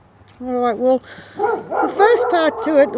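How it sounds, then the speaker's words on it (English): A pet dog at home gives a few short barks and yips, loud and close, mixed in with a man's speech on a live breakfast radio broadcast. "sorry, that's just my dog."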